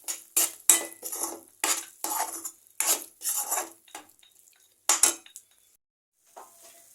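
Spice paste is stirred in a cooking pan, a series of close, crisp metal spoon scrapes and clinks in uneven strokes separated by short pauses.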